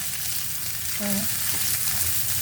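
Chilli and a pinch of asafoetida sizzle in hot oil as onion goes in. There is a dense, constant frying hiss throughout and a brief tonal squeak in the middle, with no voices.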